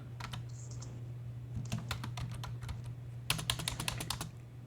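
Fingers type on a computer keyboard in short bursts of rapid clicking keystrokes with pauses between, close and fairly quiet over a steady low electrical hum.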